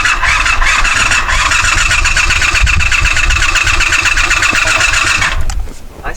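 A 1984 Honda 500 Interceptor motorcycle engine turns over on its starter, a steady loud whirring crank lasting several seconds before cutting off abruptly.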